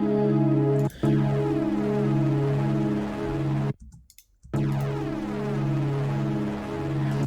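A sustained synth tone with a pulsing, clicking rhythm runs through an amp effect that gradually increases. It plays continuously apart from a brief dip near the start and a short gap partway through.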